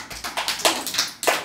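Children in a Class 1 and 2 general science quiz lesson clap together in a classroom, a quick run of close, sharp hand claps in uneven bursts, no talking over it.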